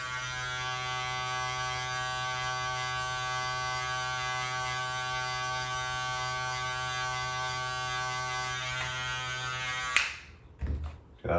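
Electric hair clippers with a 1.5 guard cutting hair give a loud, steady buzzing hum for about ten seconds, then cut off abruptly with a few short clicks and rustles.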